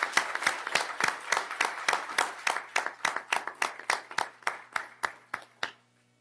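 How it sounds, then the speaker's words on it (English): A small group at a school board meeting claps briefly, with distinct, fairly close handclaps in a quick uneven rhythm that thin out and stop, leaving near silence. "Ms. Purcell, we're going to give you a little applause too."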